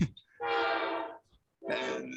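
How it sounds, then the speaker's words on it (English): A train passes nearby with loud sustained horn-like tones, a long blast followed by a short pause and a second blast starting, with no talk over it. "that's a train."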